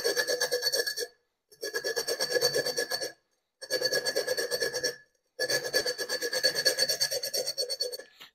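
Glass wine bottle rotated and ground against coarse sandpaper, giving a harsh rasping scrape in four steady bursts separated by short silences, close and fairly loud.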